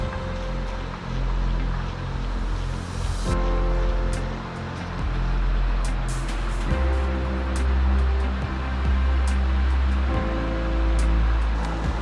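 Tamarack Creek near El Capitan flows in a steady, broad rush of water, a continuous close roar with no voices over it.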